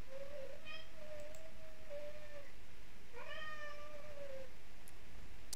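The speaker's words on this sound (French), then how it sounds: "mon chat qui veut sortir" A house cat that wants to go outside meows twice, long drawn-out cries a few seconds apart, close and clear over a steady low background hum.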